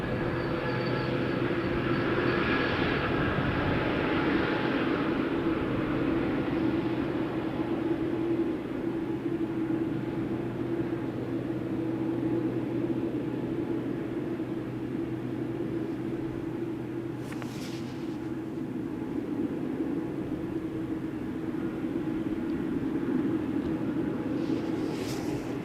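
A steady, loud, broad roar comes from an airliner with GEnx engines at Amsterdam Schiphol's Polderbaan runway. It drones continuously for the whole stretch, and a couple of faint brief clicks cut through near the end.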